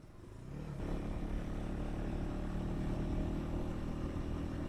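A KTM 390 ADV motorcycle riding a mountain road, its engine a steady, loud drone that swells in over the first second and then holds constant, with wind rush throughout.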